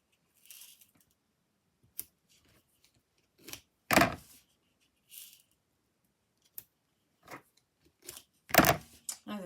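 Scissors snip paper for square 6x6 card making, a few sharp, separate cuts and small handling clicks spaced out across quiet pauses, close and fairly faint.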